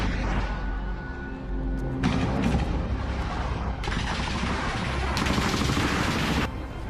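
Rapid bursts of gunfire from an Israeli Merkava tank in Gaza rattle loudly and continuously, with the volley intensity shifting between several sustained stretches.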